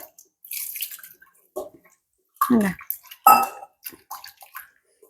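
Water pours in short splashing bursts into a container during a home hair-care treatment, with a few brief gushes and small clinks between quiet gaps.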